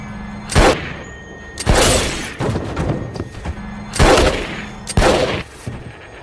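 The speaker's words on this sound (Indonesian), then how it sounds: "Saat preman itu menjahili Erika, ia langsung menembak kedua preman tersebut hingga tewas saat itu juga." Gunshots ring out aboard a train in an action film, four loud sharp blasts in irregular succession, each with a booming thud and short ringing tail, no talk.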